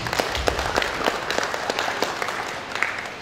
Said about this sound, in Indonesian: mari sama-sama kita berikan aplaus